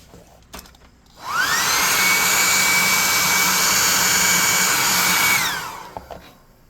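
Compressed air blasting onto a painted miniature of a displacer beast for a tabletop game, a loud steady hiss that rises quickly, holds for about four seconds and then cuts off, with small clicks just before and after.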